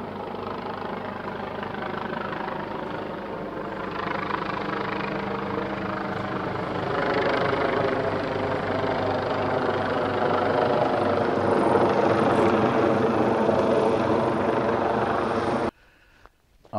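A state police helicopter drones steadily overhead, its rotor chop pulsing continuously and growing slightly louder before cutting off abruptly near the end.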